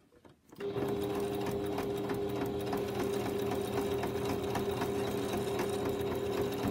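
Sewing machine starting up and stitching steadily while back tacking the binding on a fabric potholder, a close, even mechanical whir with a rapid needle rhythm, no voices.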